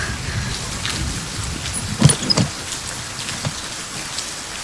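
Heavy rain falls steadily in a dense, hissing wash, with a few louder splashes and knocks standing out near the middle.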